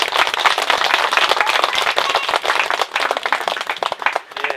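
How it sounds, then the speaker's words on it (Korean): A church congregation claps together for Sunday school teachers, dense sustained applause filling the room, loud and continuous before thinning slightly near the end. "수고하신 분들께 박수 한번 보내드리겠습니다"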